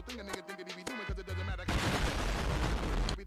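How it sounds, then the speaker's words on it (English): A booming party video game explosion bursts in after a stretch of game music and chatter, a heavy rumbling blast that carries on steadily for over a second. "The fucking explosion."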